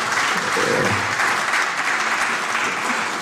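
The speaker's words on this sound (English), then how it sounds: "Let's give the ambassador another round of applause." Audience at a diplomatic seminar gives a speaking ambassador a steady, fairly loud round of applause, dense clapping filling the room with a faint voice briefly beneath.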